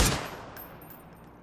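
Gunfire in the battle royale game PUBG during a DreamHack Showdown qualifier esports match: a loud burst of shots at the start that quickly fades into a lingering, decaying rumble.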